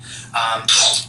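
Someone sneezes close to the microphone in two quick bursts, a sharp intake followed by a louder hissing explosion over a low steady hum.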